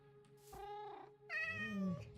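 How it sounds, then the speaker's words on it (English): A Minecraft cat mob meows twice in a row, close and clear, the second meow longer and rising into a drawn-out wavering cry, with no talk. "The cat."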